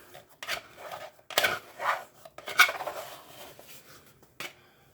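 Bread dough scraped out of a mixing bowl, with several short soft scraping and rubbing strokes in an irregular rhythm, close and moderately quiet.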